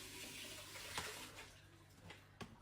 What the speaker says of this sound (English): Water off, get some of the starch out, and add water back to my pot.